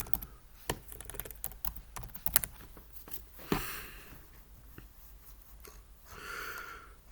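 Typing on a computer keyboard, a close run of quick irregular key clicks with short pauses, fading into quieter rustling toward the end.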